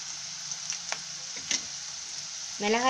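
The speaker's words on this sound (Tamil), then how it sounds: "பூண்டு வந்து கொஞ்சம் எண்ணெயில் கொஞ்சம் நல்லா வதங்கணும் இதில் இப்போ நம்ம கருவேப்பிலை சேர்த்துக்கலாம்" Garlic and curry leaves sizzling in hot frying oil in a pan, a steady close hiss with a few crackles and pops, and a louder surge of sizzle at the end.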